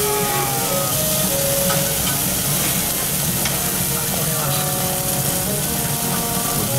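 Large-cut beef rib roast sizzling on a yakiniku grill at a Kyoto restaurant, making a loud, dense, continuous crackle and hiss close by that holds steady throughout.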